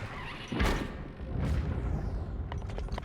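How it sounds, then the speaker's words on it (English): Deep booming explosions from The Legend of Zelda: Breath of the Wild, two heavy blasts about a second apart, followed by lingering rumble and a few faint clicks. "Cool guys don't look at explosions, even in the dark."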